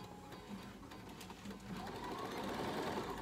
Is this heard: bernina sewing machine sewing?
yes